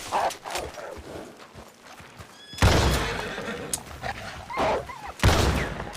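A horse whinnies loudly and nearby, with bursts of neighing and snorting, some hoof clatter and scuffling around it.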